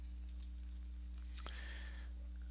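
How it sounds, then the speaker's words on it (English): Faint single mouse click on a button in Microsoft Dynamics GP (Great Plains), a brief tick over a low steady hum in a quiet room. "click the correct button"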